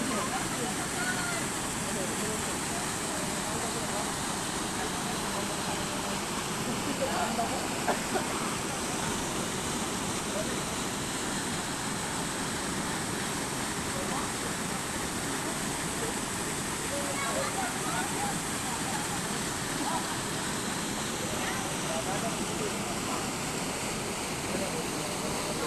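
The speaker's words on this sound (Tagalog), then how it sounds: "Ito pala ang tinatawag ng falls ng Imelda Falls." Imelda Falls in Barangay Mamangan del Sur pours with a constant, even rush of falling water, loud and unbroken throughout, with a voice faintly present at times.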